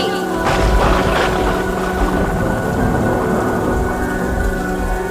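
Thunderstorm with heavy rain: a steady roar of downpour with deep, rumbling thunder swelling near the start, loud and continuous throughout, with no voices.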